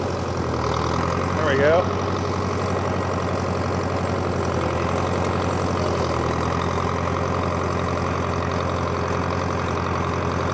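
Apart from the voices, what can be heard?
John Deere 3020 diesel tractor engine running while driving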